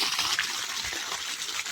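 Water gushes from a broken irrigation valve in a farm field, a steady, loud rushing spray that goes on without a break and without talk.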